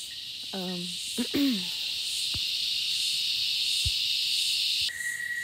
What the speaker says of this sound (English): I'm hoping the cicadas in the background are not too deafening